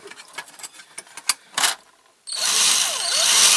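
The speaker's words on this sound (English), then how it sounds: "I've decided to drill it out because I think that's the best way to do it." A power drill bores into a metal part of a Dinky Supertoys No. 972 Coles lorry-mounted crane during restoration. A few light clicks and taps come first, then a close, loud, continuous whining drill sound with shifting pitch.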